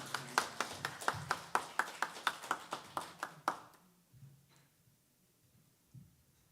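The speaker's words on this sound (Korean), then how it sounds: "우리 뜨거운 박수로 환영하겠습니다" A church congregation at a Sunday service claps to welcome a missionary, a run of about fifteen crisp, evenly spaced claps in a fairly close rhythm that stops abruptly, leaving near silence with a faint voice.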